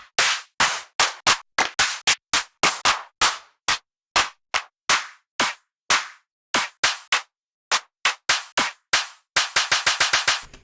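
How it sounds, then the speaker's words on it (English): A rapid series of sharp, heavy clap samples from a sample pack, each a loud, punchy hit with a short tail. They are spaced irregularly and crowd together into a quick roll at the end. "So a bunch of claps like this."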